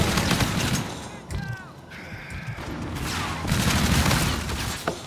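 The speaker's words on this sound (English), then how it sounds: "Now I'm a heavy machine gun over here." Heavy machine gun fire in the video game Call of Duty: Infinite Warfare: loud rapid bursts of gunshots with sharp crashes and brief pauses, mixed with game voices and effects.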